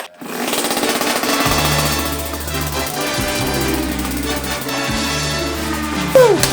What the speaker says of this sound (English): It's time to kick it, see if this thing starts.